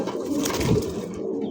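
A large pair of white Bombay pigeons gives a low, soft cooing call from close by, short and alone without talking.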